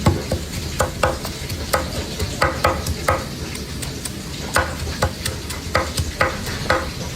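Kapampangan sisig sizzles and crackles in a hot pan while a utensil stirs it. Sharp metallic scrapes and taps repeat at an uneven rhythm over the constant frying hiss, close up and without talk.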